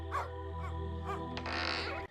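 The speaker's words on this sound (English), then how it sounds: "Not a fan of dog barks." A dog in the Simon the Sorcerer Origins video game barks three times in a quick run, set over steady game music and ambience, followed by a brighter swell of sound.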